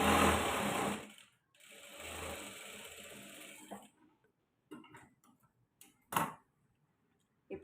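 A sewing machine stitching a blouse runs in two fast, buzzing bursts, then gives way to quiet clicks and brief handling sounds.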